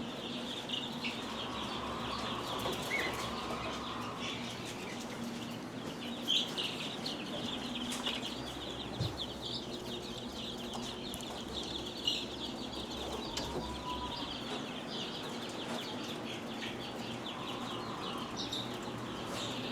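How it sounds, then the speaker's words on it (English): Calico Coturnix quail chicks a few days old chirp in a steady stream of small, high peeps close by, with faint rustling underneath and no voices. "This is a 4-day-old quail, 3 or 4-day-old quail, calico fee Coturnix quail"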